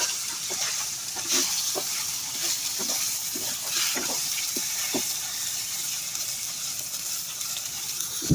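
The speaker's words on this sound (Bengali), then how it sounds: "একটু উল্টিয়ে পাল্টিয়ে ভাজতে হবে।" Fish frying on a barbecue, a continuous bright sizzle sprinkled with small crackles and pops, fairly close and steady throughout with no talking.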